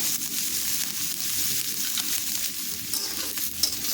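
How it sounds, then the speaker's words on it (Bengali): Chicken with green chillies frying in a pan, Punjabi-style patiala dish, a dense steady sizzle with occasional scrape of stirring, heard up close and without talk. "কাঁচা লঙ্কাটা দেওয়ার পরেও একটু নেড়ে চেড়ে নিলাম"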